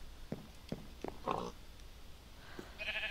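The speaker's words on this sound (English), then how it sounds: "it's a naked sheep running around" Three quick bleats from a video-game sheep, evenly spaced and fairly close, then a pause, another brief bleat and a bright chiming game tone at the end.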